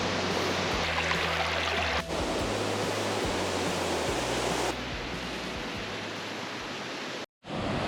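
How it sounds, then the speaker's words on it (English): Three Falls waterfall on Vancouver Island roaring as a steady, loud wash of rushing water, unbroken except for a brief dropout near the end. "So here we are, the Three Falls."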